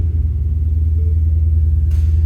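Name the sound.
2010 Ford Mustang GT engine starting up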